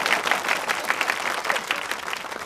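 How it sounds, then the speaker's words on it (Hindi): Applause from a crowd in a Bollywood action movie scene, a dense, fairly loud burst of many hands clapping together that holds steady for a couple of seconds. "तालियां।"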